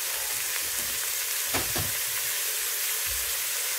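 Lamb mince sizzles and fries steadily in a pan on the hob, a continuous hiss broken by a few soft stirring scrapes and bumps, with no talking.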